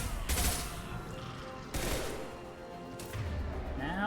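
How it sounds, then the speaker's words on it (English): Shotgun blasts in Mass Effect 2 boom out in three heavy, widely spaced shots, each loud burst trailing off before the next. "Now you can use your shotgun, boy."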